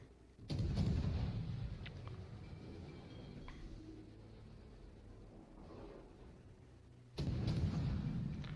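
Naval gunfire in the warship game World of Warships: two heavy, booming salvos, one at the start and one near the end, with quieter engine and ambient rumble between them.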